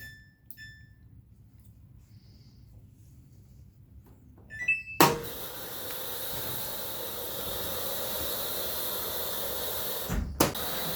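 A Samsung washing machine with a newly replaced drain pump begins its rinse cycle: a few soft beeps in near silence, then a loud, steady rush of water that continues to the end, broken briefly by a thump.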